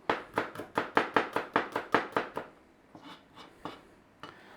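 A knife thinly slicing ingredients on a chopping board for a fish dish: about a dozen quick, even, crisp taps in a steady rhythm, then a few slower, softer cuts.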